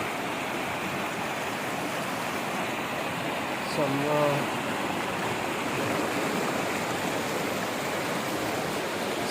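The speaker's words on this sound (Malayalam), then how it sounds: "ഇതിലൊക്കെ പോണ വെള്ളം." Floodwater after heavy rain rushes through streets in Oman, a steady broadband roar of flowing water that stays loud throughout, with a brief louder burst near the middle.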